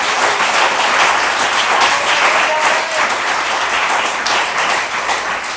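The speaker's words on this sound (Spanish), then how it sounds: "que le diga que aplauda al Cristo a quien le servimos" A church congregation applauds in a steady, dense wash of clapping that runs loud and continuous throughout, with no break.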